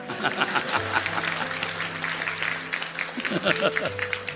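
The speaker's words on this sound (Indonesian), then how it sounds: "Tepuk tangannya nggak banyak ya" A church congregation applauds steadily for about four seconds, a dense patter of claps running under a speaking voice and sustained musical tones.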